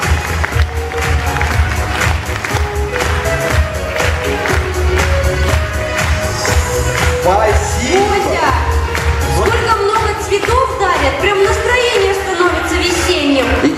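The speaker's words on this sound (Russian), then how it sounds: "Эти аплодисменты в вашу честь!" An audience at a kindergarten concert applauds loudly, a dense, continuous wash of clapping and crowd noise mixed with music playing throughout.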